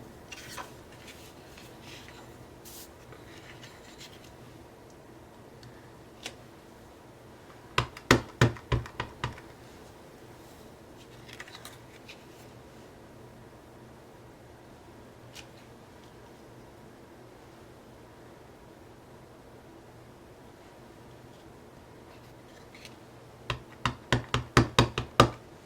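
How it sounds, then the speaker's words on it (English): A rubber stamp pressed repeatedly onto paper during a crafting session gives clusters of quick, soft taps in two short bursts over a quiet room background. "we're just going to stamp different sections of the stamp going off the edge of the paper."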